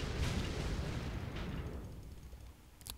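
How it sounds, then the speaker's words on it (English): Tires bursting in the Next Car Game driving game: a loud, rumbling blast that slowly fades away, followed by a faint crackle at the end. "Let's explode some tires."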